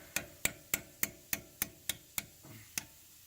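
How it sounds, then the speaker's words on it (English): A hammer gives gentle taps to a 2016 Chevy Colorado suspension part during a leveling kit install: nine evenly spaced, sharp metallic knocks, close and clear, with no talking. "you're going to need a hammer most likely, and you're just going to give it some gentle taps"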